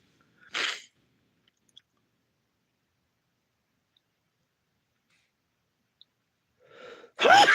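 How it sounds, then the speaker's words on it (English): A single short sneeze, close and sharp, then near silence; a breathy intake and a voice follow at the end. "And I'm going to sneeze."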